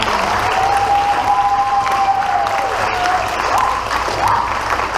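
A school board meeting audience applauds state champion students, loud sustained clapping from a crowd with a faint cheer, steady and close throughout.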